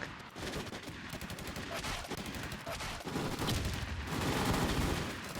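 Rapid gunfire in a first-person shooter game, dense overlapping bursts of automatic shots repeating without pause, fairly quiet overall and steady through the whole stretch.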